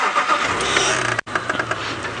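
A safari game-drive vehicle's engine turns over and rumbles as the vehicle pulls forward in the bush. The sound is close and steady, broken by a brief dropout midway.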